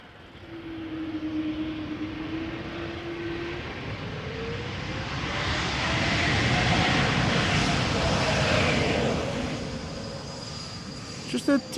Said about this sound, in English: Just a teensy bit of reverse thruster action there.